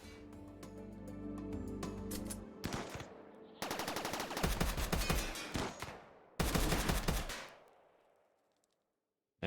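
Armor-piercing rounds fire in the colony game Rimworld, with three loud bursts of rapid automatic gunfire cut off sharply, the last trailing into a fading echo before silence.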